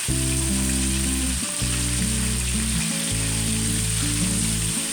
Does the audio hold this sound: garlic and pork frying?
yes